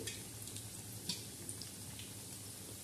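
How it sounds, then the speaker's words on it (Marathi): Onion bhajis deep-fry in hot oil, giving a faint, steady sizzle with a few soft pops scattered through it. No voices are heard. "आता हे रुचक लागणारे, खमंग लागणारे भजे मस्तपैकी आता तळत आहे"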